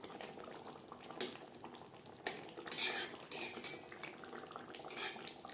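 A utensil stirs silver carp fish curry gravy, made with little oil and no garlic or onion, in a pan over a gas flame, with faint intermittent scrapes and clinks against the metal and a soft bubbling beneath.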